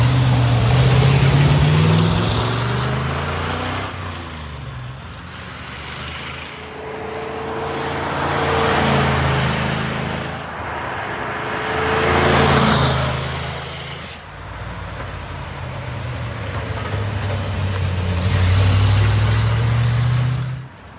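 A 1953 Allard K3 roadster makes repeated flybys, its engine swelling loud as it approaches and passes, fading between passes, with several distinct rises and falls over about twenty seconds.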